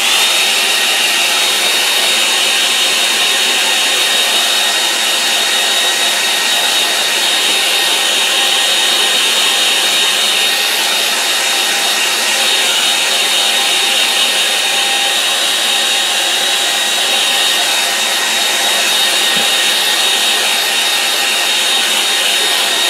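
A hair dryer blowing on a wet-in-wet watercolour painting, a loud, constant close-up whooshing hum that runs unbroken for over twenty seconds.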